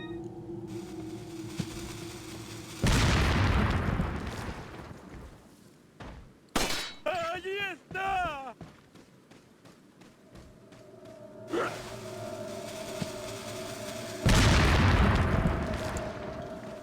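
Enemy bombs in Resident Evil 4 explode in several loud bursts with shattering debris, separated by quieter stretches with brief, squealing voice-like cries midway.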